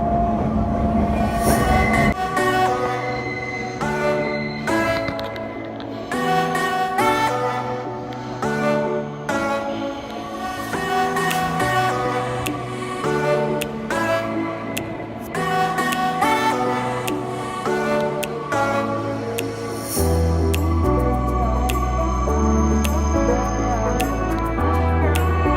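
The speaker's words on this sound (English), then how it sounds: "you can actually take a real train ride here" A train ride in Koyasan, Japan, with steady rolling rail noise, rhythmic wheel clatter and brief squeals heard from inside the carriage, continuous and fairly loud throughout.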